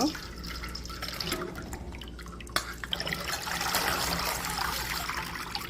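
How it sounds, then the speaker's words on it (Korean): Two liters of water poured into a container for soybean leaf water kimchi, a steady splashing gush with faint dripping and trickling throughout. "물 이제 2리터를 넣어서 개워줄게요"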